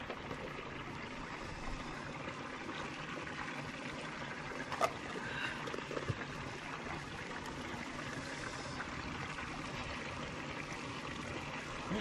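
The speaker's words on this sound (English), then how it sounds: "I'm about to pan this down right now and see what we can find." Gravel being panned for gold in a small Colorado creek, clay-heavy material swirled in a test pan: steady broadband water sloshing and trickling close by, with a couple of brief sharp knocks, no talk.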